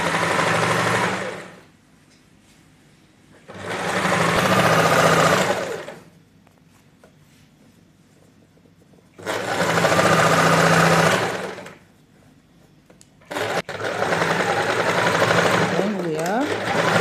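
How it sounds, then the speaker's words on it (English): A sewing machine stitches a bias strip onto a dress neckline in several loud, steady runs of a few seconds each, separated by quiet pauses, with a final run cut by a brief handling noise. "sewing the bias strip to the neckline"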